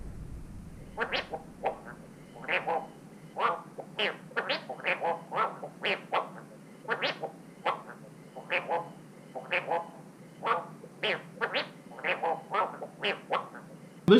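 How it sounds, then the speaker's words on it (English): A Garindan mask's built-in electronics play back the character's voice clip: rapid, buzzy, duck-like squawks and chirps in uneven bursts, thin and fairly quiet, with a click at the very end. "I've got it loaded up with a 13-second sound clip that I put together myself of the character."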